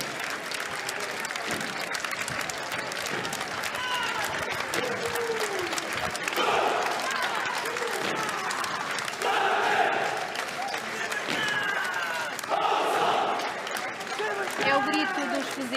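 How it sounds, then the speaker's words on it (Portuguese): Portuguese marines pass in a military parade and shout their battle cry while the watching crowd applauds steadily throughout, a broadcast commentator talking over the cheering and clapping. "É o grito dos fuzileiros, a sua passagem também muito aplaudida pelas pessoas que estão a assistir ao desfile militar."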